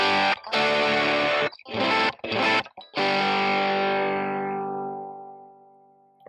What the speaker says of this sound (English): Notice I'm getting more sustained with this now because of the distortion.